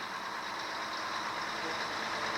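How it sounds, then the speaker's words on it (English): A 1980 Mack tractor trailer loaded with four-foot pulp balsam idles at a lumberjack parade, its engine a steady, close, continuous rumble with broad hiss and no voices. "Tim Reed brings a 1980 Mack loaded with 4-foot pulp balsam"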